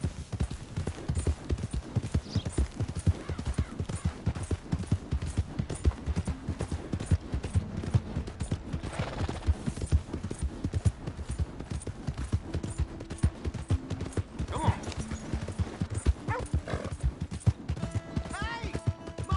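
Horse hooves clip-clopping steadily through a Red Dead Redemption 2 game scene, a continuous rhythmic trot under bursts of talk, with a brief whinny and music-like tones toward the end.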